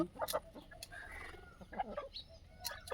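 Desi free-range chickens on a poultry farm cluck and squawk in short bursts, several birds close by, with scattered bird calls over a low background rumble.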